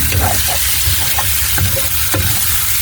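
Dried fish (shutki) cooks down in a pan, a loud close sizzle filling the whole stretch with intermittent spatula scrapes and stirs.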